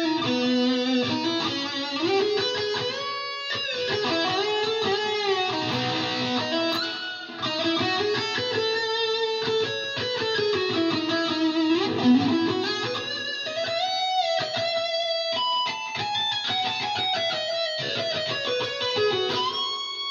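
An electric guitar plays a solo alone for twenty seconds, with sustained bends, slides and quick runs of ringing lead notes.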